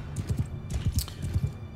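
Several horses in Mount & Blade 2 Bannerlord clip-clop in a steady, busy rhythm of overlapping hoofbeats, close and fairly loud, with faint battle noise above.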